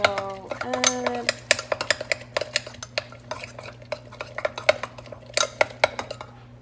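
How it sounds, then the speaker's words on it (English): Keto chaffle batter with cheese mixed in a bowl with a utensil: rapid clinking and scraping strokes, close and fairly crisp, over a low steady hum, with a few tonal metallic rings at the start. "So I'm just gonna mix it all up."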